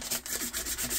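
A sheet of backing paper rubbed briskly over a transfer to burnish it onto a milk bucket, giving a close, steady scuffing friction in quick back-and-forth strokes with no talk.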